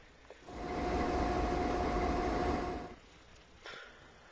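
A locomotive engine with plenty of torque in Train Simulator 2013, set around Cheyenne, runs as a loud, steady rumbling drone that swells in, holds for a couple of seconds with a faint whine, then fades to a quieter background.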